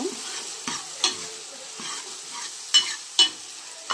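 Dried fish stirred into a frying taro-root curry, a soft steady sizzle broken by sharp metallic stirring scrapes and clinks, close up and without talking.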